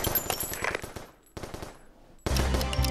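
Rapid bursts of automatic gunfire from the VR shooter game Crisis VRigade on Oculus Quest, in three loud volleys separated by brief pauses, the last one heaviest and sustained.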